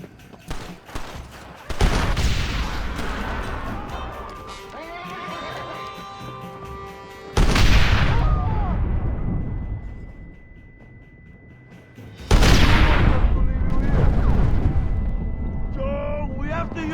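A cannon fires in the Xbox game Red Dead Redemption, three loud booming blasts spaced several seconds apart. Each blast rolls into a long decaying rumble, with crackling gunfire and faint game voices in between.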